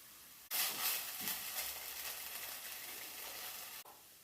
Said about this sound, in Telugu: దాంట్లోనే టీ స్పూన్ అంతా అల్లం వెల్లుల్లి పేస్ట్ వేసుకుని వేయించుకోవాలి